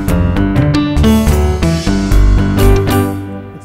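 Korg keyboard with the arpeggiator switched off, the backing track's drums and accompaniment still playing steadily, loud and continuous with rhythmic hits, no voices.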